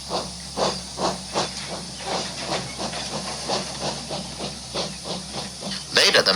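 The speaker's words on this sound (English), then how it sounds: "And Jim puffed away." Cartoon steam engine from Thomas and Friends puffing away, a steady series of rhythmic chuffs over a background hiss, ending in a louder burst of steam.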